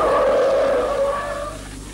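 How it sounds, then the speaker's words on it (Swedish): A Skoda swerves through a slalom course at about 60 km/h, its tires squealing loudly in a sustained, wavering skid that fades over two seconds. "Bilen pendlar allt mer och är till sist omöjlig att manövrera"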